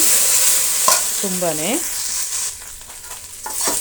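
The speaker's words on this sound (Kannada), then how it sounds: "ಬೆಂಡೆಕಾಯಿ ನೋಡಿ ಒಂದು ಅರ್ಧ ಭಾಗ ಫ್ರೈ ಆದ ನಂತರ ನಾವು ಟೊಮೆಟೊನ ಸೇರಿಸೋಣ" Okra sizzling and frying in a pan for a Karnataka-style gojju, stirred with a few clear scraping strokes against the broad hiss of hot oil; a short word is spoken partway through.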